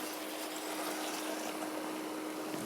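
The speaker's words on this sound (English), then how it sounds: "And then we're going to pop in some white wine." White wine pours steadily into a pot of mussels, making a soft, continuous gushing hiss that sits fairly faint and close, with no voices over it.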